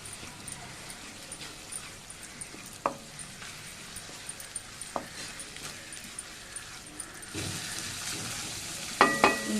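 Junnu, colostrum milk, frying in a masala paste in a pan gives a soft low sizzle, broken by scattered stirring clicks and scrapes that grow busier toward the end.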